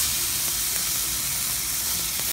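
Bite-sized chopped food for an omelette sizzles loudly in a hot pan, making a steady close hiss that holds evenly through the whole moment with no talking.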